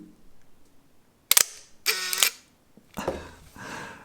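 A Leica M8 rangefinder with its lens removed fires its shutter: a crisp, loud click, then a short buzzing motor wind, followed by a couple of softer mechanical clatters, close up and with no other sound.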